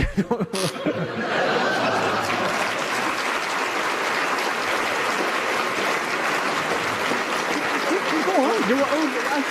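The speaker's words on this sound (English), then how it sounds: "it was obviously just a strange kind of applause coming from the second row in the balcony" Applause rolls in from an audience at a panel game recording, breaking out after a brief buzz and holding steady as a broad wash, with laughter mixed in and a voice rising near the end.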